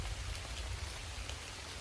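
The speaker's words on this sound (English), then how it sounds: "the drizzling rain and the thunder" Drizzling rain pattering steadily near a tree during a storm, an even soft wash of drops with a low rumble underneath and no talking.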